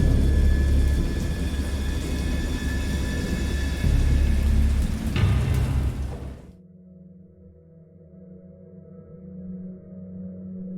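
Heavy rumbling thunder with a dense rain roar from a video game storm fills the first several seconds, then cuts off abruptly to a faint, quiet hum.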